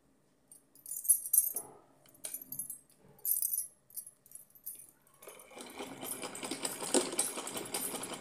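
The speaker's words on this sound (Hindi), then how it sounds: "तो ये हमारा जो फोल्डेड हिस्सा है इस तरह से इसको हम सिलाई लगा देंगे इस पर" A sewing machine stitches along a folded fabric edge on a small costume for a deity figure, starting with scattered clicks and handling noises, then settling into a steady close whir.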